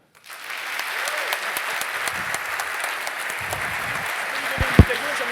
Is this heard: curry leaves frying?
no